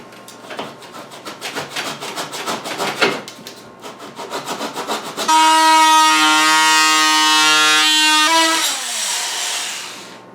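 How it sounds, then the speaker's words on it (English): A power plunge saw cuts into tile laid over existing tile: a rough, gritty rasping of repeated strokes for several seconds, then a loud, steady high whine with a sustained tonal ring that fades near the end. "power saw, a plunge cutter."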